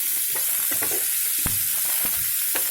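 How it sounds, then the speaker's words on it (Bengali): Chopped onions fry in butter while being stirred. A constant bright sizzle runs under several short scraping strokes of the spoon, close up and with no voices. "এর মধ্যে এখানে একটু বাটার অ্যাড করে নিলাম। এর মধ্যে এবার আমরা পেঁয়াজ কুচিগুলোও দিয়ে দেবো।"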